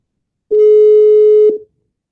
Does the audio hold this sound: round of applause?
no